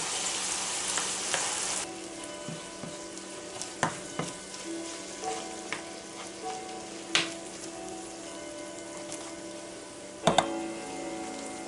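Hamburger meat for sloppy joes, cooked with tomato soup, is stirred in a pan. A soft, steady sizzle runs beneath a spoon's clicks and scrapes, which come every second or so, with a sharper clatter near the end.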